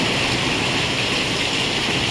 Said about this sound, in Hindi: बहुत अच्छी बारिश हो रही है, बहुत ही अच्छी, लेकिन बहुत हवा के साथ है